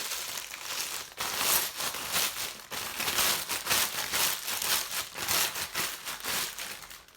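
Plastic packaging around a bundle of callaloo greens is crinkled and pulled open up close, a run of loud rustling crackles in uneven bursts, with no talking.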